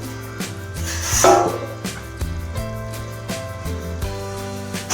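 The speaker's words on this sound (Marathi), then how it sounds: "एकदा आपण त्याला हलवून घेऊ कारण वजरीला सतत हलवावी लागते" Goat tripe (vajri) is stirred in a cooking pot over a village wood-fired stove, giving repeated scraping, rubbing strokes with a louder burst early on, all set against steady background music.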